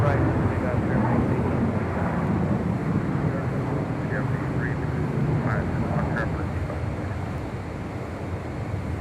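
A fixed-wing airliner rolling for takeoff on runway 25 right at LAX, a broad continuous roar of jet engines with wind buffeting the microphone, steady and fairly loud and fading slightly toward the end.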